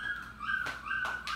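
A curly-coated golden puppy with slightly darker ears whimpers in thin, high, drawn-out whines, several close cries repeating over a second or so with no talk.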